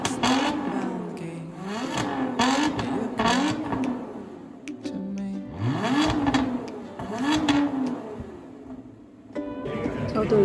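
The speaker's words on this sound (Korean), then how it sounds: "그럼 이제 좀 있으면 엔진 틀어준대요." A mid-engine British sports car engine starts and revs close by, its pitch rising and falling in several repeated surges over about ten seconds, with some voices in the background.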